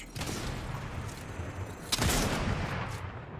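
Fortnite gunfire sounds in quick bursts, with a sharper louder crack near the middle against a faint backdrop and no speech.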